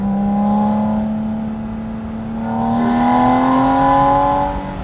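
A Porsche Boxster Spyder RS engine revs up, eases off, then climbs again in a long, smooth rising whine, loud and close, with no talking.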